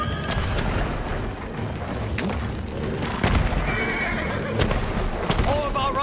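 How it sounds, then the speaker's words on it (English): Horses whinny and gallop in a Ghost of Tsushima battle retreat, neighs rising over dense hoof clatter and battle noise, with shouted voices mixed in throughout. "Everyone, get to the horses."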